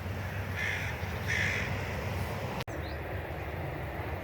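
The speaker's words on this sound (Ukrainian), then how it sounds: "що як голосно співають пташки" Two loud caws from a crow ring out over steady low outdoor rumble, followed by quieter background noise and faint distant bird calls.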